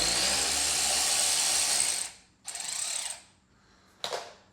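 A socket wrench with a stubby socket ratchets bolts out of a 2019 Ford F250 front bumper in tight spots, giving a steady clicking run followed by two shorter bursts, close up and with no talk.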